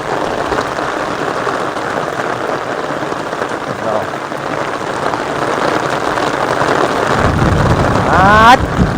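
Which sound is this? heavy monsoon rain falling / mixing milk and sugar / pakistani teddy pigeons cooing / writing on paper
heavy monsoon rain falling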